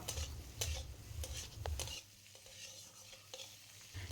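Capsicum, tomato and green chilies fry in a pan with a soft sizzle and stirring scrapes, busier in the first half and then quieter, close and with no talk.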